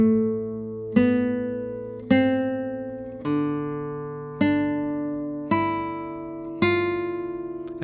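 Classical guitar plucks single melody notes with rest strokes, seven clear evenly spaced attacks that each ring and decay, played close and alone for measures 5 and 6 of "Andante".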